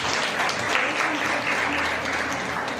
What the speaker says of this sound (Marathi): परत एकदा टाळ्या